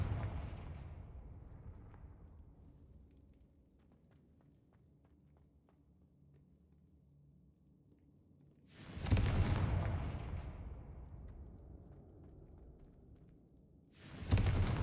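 Explosions from the Confringo blasting spell in a video game, two sudden loud booms several seconds apart, each with a long fading rumble, and quiet footsteps in between.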